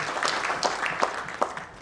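An awards-ceremony audience applauds a Construction Woman of the Year winner at a builders' award event, a sustained crowd clapping with a few sharper individual claps standing out.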